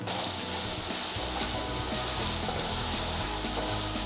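Garlic paste and turmeric frying in oil, a steady, dense sizzle and hiss throughout with a low background hum and occasional faint stirring clicks.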